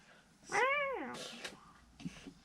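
A person's voice imitating a cat's meow during a tabletop role-playing game session, one drawn-out rising and falling mew followed by brief talking.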